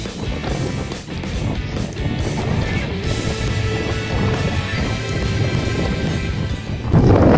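Rain and wind on the Tarnica summit in the Bieszczady mountains on a cold, foggy July day, heard as a loud continuous rush of gusting wind and rainfall, swelling sharply at the end.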